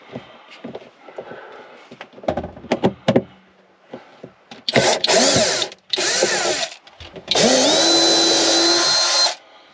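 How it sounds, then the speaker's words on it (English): A power drill whirs in several loud bursts, close by, its pitch rising and falling, removing a panel while fitting a temperature sensor, with some clattering and handling noises between runs. "Helps if you put the drill on a slower speed."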